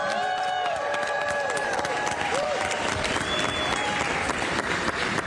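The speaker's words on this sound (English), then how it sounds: "Give them a big round of applause." An audience at a Washington governor's bill signing applauds steadily, dense clapping mixed with a few whoops and cheers, with some voices in the crowd underneath.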